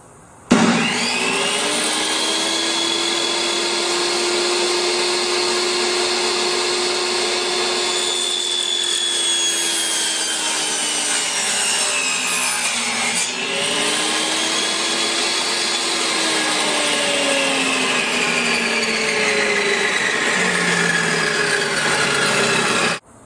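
A power tool whines steadily while cutting through a round container for a small-items shelf, a loud continuous drone with slowly shifting pitch that dips midway and resumes, running alone for over twenty seconds.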